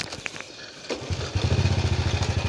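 A motorcycle rides past outdoors, its engine rising from a distant whine to a close, loud, rhythmic putter that holds steady to the end, with no talking.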